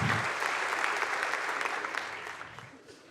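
Applause from a comedy-show audience, a dense wash of clapping at fairly close range that holds steady, then slowly thins and fades toward the end.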